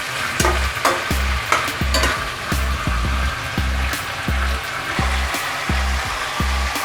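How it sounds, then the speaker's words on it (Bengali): Goat head curry with spices fries in a wok while being stirred in a brisk, regular rhythm of scraping knocks, about two per second, over a constant loud sizzle nearby. "এটা খুব ভাজা ভাজা করে নিতে হবে।"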